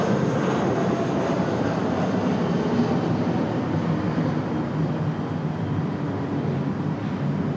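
A CRJ regional jet moves about at Raleigh-Durham International Airport, its engines giving a steady, broad, continuous roar at moderate distance throughout, with no voices over it.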